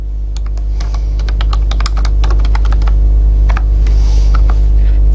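Someone types code rapidly on a computer keyboard, a loud, steady stream of close-up key clicks and clacks over a constant low hum.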